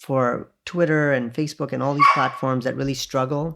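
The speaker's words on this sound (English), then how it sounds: "sorry about the background noise, that's my dog" A pet dog barks and yips somewhere in the home during an interview call, short bursts heard underneath a man's steady, close talking.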